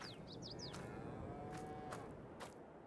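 Cows in a shed in Farming Simulator 22 moo and low over a constant, faint background hum, with a few short chirping bird calls near the start and no talking.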